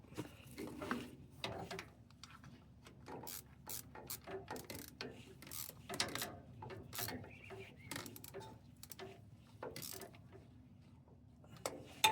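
A ratchet wrench clicks in quick bursts as bolts are tightened on the starter of a Kubota L210 tractor, sharp close-up ratcheting strokes separated by short pauses, fairly quiet and with no talking.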